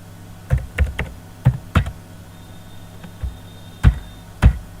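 Keys on a computer keyboard clack in scattered, uneven taps while a ledger entry is typed into Tally ERP9 accounting software, each stroke close and crisp against a quiet room with no talk.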